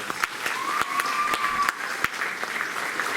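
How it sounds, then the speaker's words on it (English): Audience applause at a school board meeting: a steady patter of many hands clapping for several seconds at moderate distance, with a brief whistle rising over it. "Let's give Miss Cedillo a round of applause."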